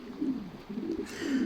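Pigeons coo in a backyard aviary, a soft low throaty warble repeating in rounded phrases every half second or so, fairly close, with no talk over it.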